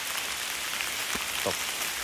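Rain falls on a rubber plantation as a steady, dense hiss of drops, close and even, with a couple of soft low knocks underneath.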